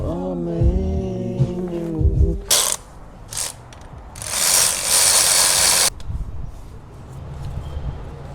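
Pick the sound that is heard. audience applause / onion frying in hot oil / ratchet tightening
ratchet tightening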